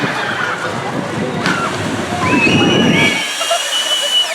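Water sloshes and splashes loudly at the splash zone of a shoot-the-chutes water ride at the Valleyfair amusement park, a rushing wash with a crowd murmuring nearby.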